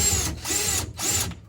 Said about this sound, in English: Let me get the power tool here